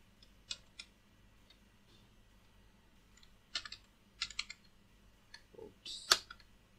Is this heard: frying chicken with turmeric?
no